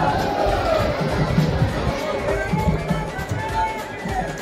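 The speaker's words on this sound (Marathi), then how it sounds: "ही बघा आतमध्ये गर्दी आहे" A crowd packs the interior of the Karla Ekvira temple, filling the space with a dense murmur of overlapping voices and shuffling. Nearby speech rises above the steady babble throughout.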